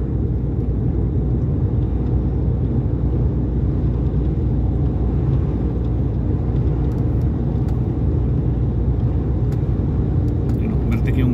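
A Flixbus coach driving on a road in Italy, a steady loud engine and road rumble carrying on unbroken from start to finish, with no voices over it.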